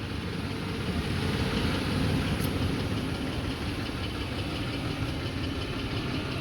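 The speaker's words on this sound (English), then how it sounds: "And you hear a little bit of an exhaust leak." A 2005 Ford F150 King Ranch engine idles with an exhaust leak, making a steady, even rumble with a faint ticking texture, heard close up and continuous.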